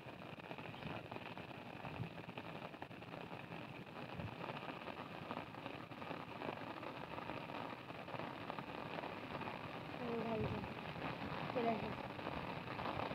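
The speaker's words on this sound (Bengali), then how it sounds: "বৃষ্টির তেজও বাড়তেছে, মাছও বেশি উঠতেছে।" Steady rain falls on the Padma river during net fishing from a boat, a soft, even hiss that runs throughout at low level, with people talking over it.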